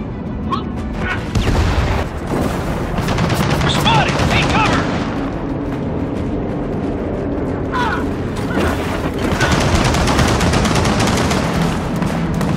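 A machine gun nest fires in Gears of War 4, giving sustained loud bursts of automatic gunfire that run through the clip with booming impacts and battle noise. Voices shout over the fire.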